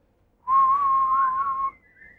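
A single steady human whistle, held clear and alone for about a second, imitating birdsong with a slight rising tail at the end.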